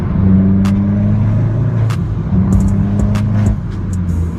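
A Vauxhall VXR engine with a loud modified exhaust drones with steady low harmonics, shifting pitch as it drops from fifth to fourth gear, with brief clicks and clatters over the rumble.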